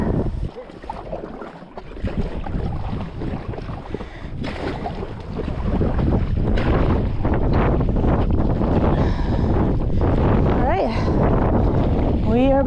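Heavy wind roars and buffets the microphone while a boat paddles through rough conditions on a river trip, with gusts rising and staying loud throughout and water sloshing underneath.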